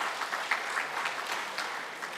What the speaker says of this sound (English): Can we have a big applause